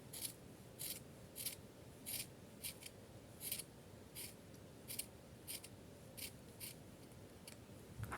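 Scissors snip through the felt-like material of a handmade craft gnome's hat in a steady series of close, crisp cuts at a regular rhythm over a quiet room.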